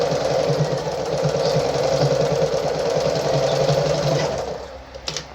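A Pfaff 130-115 sewing machine stitches through fabric at a longer stitch length, a steady fast chatter of the needle mechanism running loud and continuous before slowing to a stop near the end.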